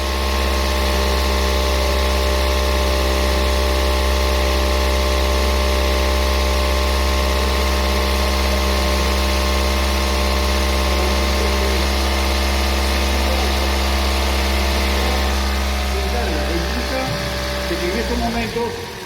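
A car engine held at 2000 RPM during a charging system test, giving a steady, loud, continuous hum that drops off near the end, close by and with no speech over it.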